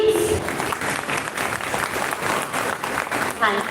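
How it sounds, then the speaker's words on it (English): A crowd at an Independence Day celebration claps for performers, a continuous, fairly loud burst of applause with faint voices mixed in. "can we have a huge round of applause, please?"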